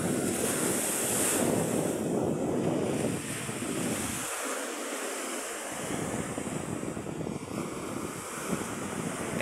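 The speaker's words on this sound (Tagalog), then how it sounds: "Lakas ng alon mga Q." Strong ocean waves surge and crash continuously off the coast of New Wareshington, Aklan, with loud roaring surf and heavy wind buffeting the microphone. There is a brief lull in the low rumble midway through, and no talk is heard.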